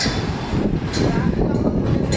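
A metro train ride, with a continuous loud rumble of the railcar rolling along and a few brief higher squeals and clatters from the wheels and track.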